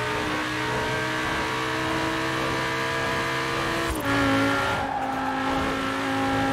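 An Audi RS6 police car in the video game Forza Horizon 4 revs hard with a loud, steady engine roar, climbing through the gears with an abrupt shift partway through, and no voices over it.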